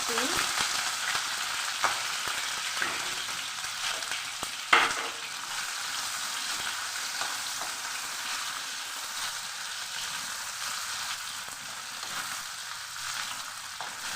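Dried fish (shutki) and mustard seeds frying in hot oil give a strong, continuous sizzle, with a sharp crackle and spatter burst partway through. The frying then settles into a steady hiss, with no talking.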